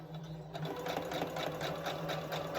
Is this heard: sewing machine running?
yes